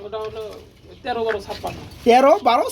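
Pigeons at a market sale coo near the listener in short harmonic bursts, three phrases over a few seconds, with voices mixed in.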